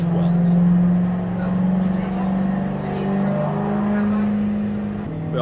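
Turbo V8 FC RX7 pulling on a dyno, a loud steady low engine drone holding pitch for several seconds with slight swells, then cutting back near the end, with talk partly mixed over it.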